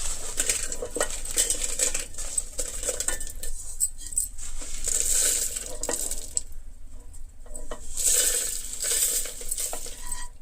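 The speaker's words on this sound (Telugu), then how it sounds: "ఇలా పొడిగా ఉన్న జార్లో ఇవన్నీ మనం వేయించుకున్నవన్నీ వేసేద్దాం" Fried bitter gourd spice ingredients tumble into a dry mixer grinder jar in bursts of light rattling and clinking, with pauses between pours and no talking.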